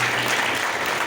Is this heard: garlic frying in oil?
no